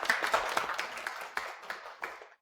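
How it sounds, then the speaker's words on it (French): A small group of office colleagues claps for a newly appointed woman supervisor at their company, with distinct close hand claps in a quick, uneven patter that thins out and stops after a couple of seconds. "Applaudissons-la bien fort."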